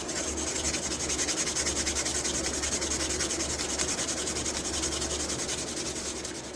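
Steady, continuous rubbing as a tool with a bone handle is cleaned during a restoration, a close, even scrubbing texture running throughout with no talk.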